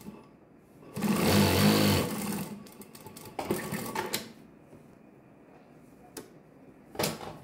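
An industrial sewing machine fitted with a specialty presser foot stitches straps in a loud, rapid one-second run, followed by softer short bursts of stitching and clicks.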